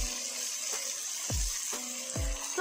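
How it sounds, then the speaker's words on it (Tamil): Water poured into a pan of simmering tamarind gravy with ivy gourd, several splashing plops with a bubbling sizzle underneath, close and moderate in volume, without talk. "சரியா தண்ணி சேர்த்துக்கோங்க தேவையான அளவு"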